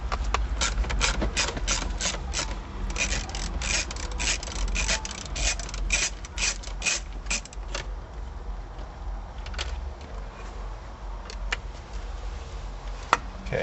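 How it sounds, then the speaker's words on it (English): A socket and ratchet working a 10mm bolt on a car, heard as a long run of rapid, close clicking that slows and grows sparse toward the end over a steady background hum. "If you can't get into it with a straight socket and ratchet like this"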